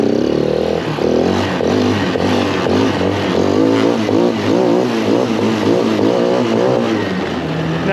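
A GY6 engine on a small Chinese motorbike revs at full throttle for a wheelie, a loud, close, continuous buzzing drone that rises and wavers in pitch throughout.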